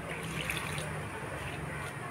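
Water poured into a pan of banana stem stir-fry with salt, a steady trickle and splash over background kitchen noise, with a voice talking faintly alongside.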